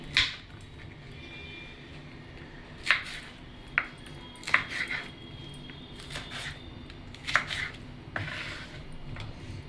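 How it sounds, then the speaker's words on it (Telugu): A knife cuts green chilies on a board in a quiet kitchen, giving a string of faint, irregular taps and metallic clicks with gaps between them. "ముందుగా పచ్చిమిరపకాయ కట్ చేసుకుందామండి"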